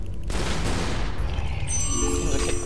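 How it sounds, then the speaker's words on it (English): Lara fires her guns in Tomb Raider Underworld, a rapid, loud burst of gunfire that runs continuously for a few seconds and ends in ringing electronic game tones. "I was shooting. Because I'm violent and she has infinite ammunition."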